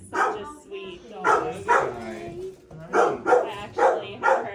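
Dogs at an animal shelter bark repeatedly in short bursts at close range, some barks yelping and a little whiny.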